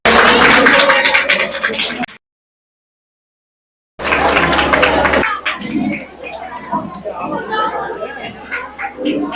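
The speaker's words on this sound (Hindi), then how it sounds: "तालियां हो जाएं" Audience at a free cancer camp event breaking into clapping, mixed with crowd chatter, then after a short silence a lively applause burst that fades into people talking and scattered claps.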